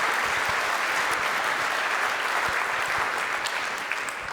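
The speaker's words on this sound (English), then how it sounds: "Give him a big round of applause." An audience at a Checkmk monitoring conference applauds continuously to welcome a speaker, dense clapping from many hands at an even, loud level that barely fades toward the end.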